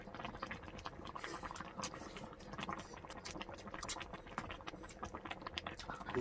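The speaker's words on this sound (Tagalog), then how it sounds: "Ganito gusto ko yung habang kumakain, kumukulo pa siya." Pork hock soup bubbling in a pot during a meal, a faint, continuous simmering crackle and patter heard close by, with no clear speech.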